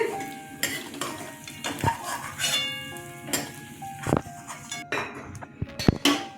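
A spoon stirs and scrapes Gobindobhog rice frying in a pan, giving irregular metallic clinks and knocks over a soft sizzle, close and fairly loud, with no talking.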